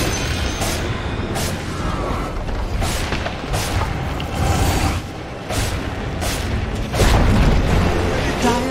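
Tower collapsing in Dota 2, heard as a series of loud, booming crashes and bursts recurring across the whole stretch, with a heavier impact near the end; busy game sounds fill the background.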